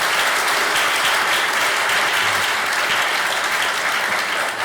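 Loud, dense applause from a Hindi-speaking audience at a study session, an even, continuous roar of many hands clapping from start to finish with no speech over it.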